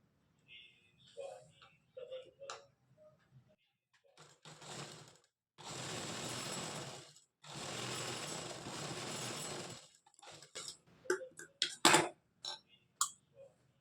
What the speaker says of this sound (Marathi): नंतर खालच्या बॉटम साईडने आधी शिलाई मारून घ्यायची आहे